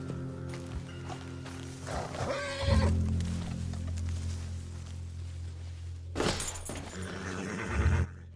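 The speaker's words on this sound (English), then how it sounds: "And then we'll let these horses go." Horses in a video game (Red Dead Redemption, John Marston) whinny and snort loudly in bursts, one high neigh early and another near the end, over a low rumbling background.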